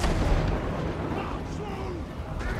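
Cannons fire in a Warhammer multiplayer battle game, a dense, continuous rumble of booming artillery and battle noise that stays loud throughout.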